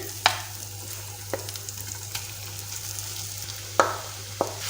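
Mashed potatoes being stirred into a pan of frying spices over a low flame for a chicken potato pinwheel samosa filling; soft, sparse scraping clicks over a faint, steady background hum.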